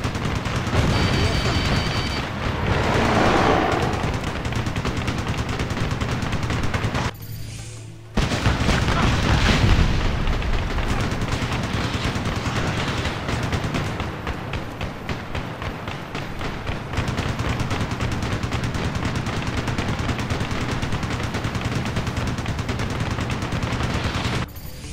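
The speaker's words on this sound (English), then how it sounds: "Heavy fire coming back at us." Heavy gunfire and anti-air fire in the Ace Combat video game roar almost nonstop: dense, loud bursts and booms layered over a constant roar, with a brief drop in intensity midway before the barrage resumes.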